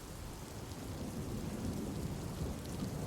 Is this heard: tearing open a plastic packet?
no